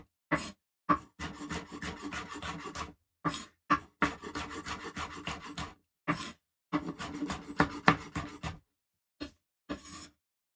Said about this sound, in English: go ahead and de-seed it. You can just take a spoon and scrape that right out